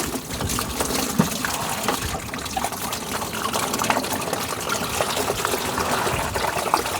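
Water runs steadily while a motor is washed down, a continuous splashing and trickling gush at moderate loudness with no talk.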